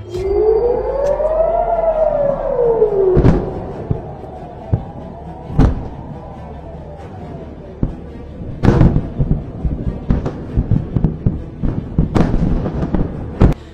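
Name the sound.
air raid sirens sounding in Israel during missile attack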